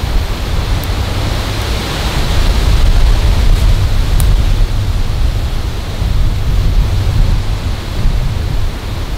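Loud, continuous wind roars and rushes without pause by a river in Texas, a broad noisy blast swelling slightly in strength with no voices present.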